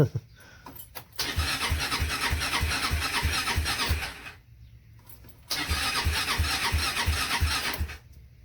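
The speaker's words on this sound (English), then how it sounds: "I'm gonna see if they'll start right up without having to push the gas or nothing." A TrailMaster 300 XRS go-kart engine cranks with a rapid, rhythmic starter chug, stops briefly, then cranks again at close range, without catching into a steady idle.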